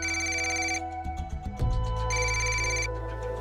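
A telephone rings in two clear bursts of bright, repeating electronic tones, loud and close, with a short break between them and low background music and noise underneath.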